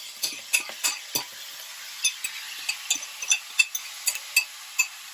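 Sauce for moussaka hits a hot pan and is stirred, giving soft sizzling under a run of sharp spoon scrapes and clinks at an uneven rhythm.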